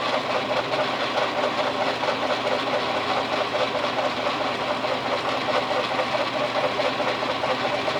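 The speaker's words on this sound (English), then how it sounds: "we're gonna hand crank this and see if we can't flatten that piece of steel out" A hand-cranked milling machine working to flatten a piece of steel in a shop, a loud, steady, dense mechanical drone with a constant rumble and no pauses or talking.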